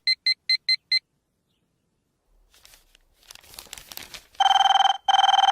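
A telephone rings in short repeated electronic trill bursts, loud and close, with rustling and handling noise in between; no one speaks.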